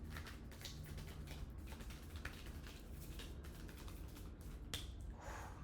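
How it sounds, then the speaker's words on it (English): A stiff deck of tarot cards is shuffled in quick, uneven riffles, producing close, soft rapid flicks and snaps with no talking. "It's really hard to shuffle that deck."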